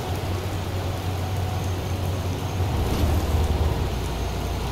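Rain while driving a bus on the Cikampek toll road in Indonesia, a dense steady hiss of rain and spray under a low engine and road rumble, continuous and without speech.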